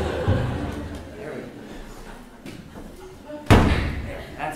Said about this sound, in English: In fact, I'm going to close that door.